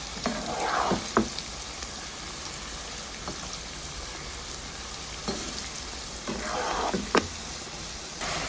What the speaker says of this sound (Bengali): এইগুলো খুব সুন্দর ভাজা হয়ে গেছে